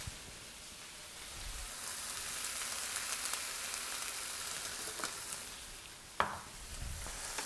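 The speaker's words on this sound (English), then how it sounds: "And now we're gonna add our coconut milk." Coconut milk poured into a pan of shrimp curry, giving a soft continuous sizzle and bubbling with a faint stir and clink near the end, fairly quiet and with no talk.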